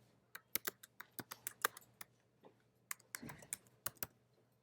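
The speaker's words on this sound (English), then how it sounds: "I can start to type." Rapid, uneven keystrokes on a computer keyboard, close and crisp, with about a dozen clicks in bursts over a faint steady hum and no talking.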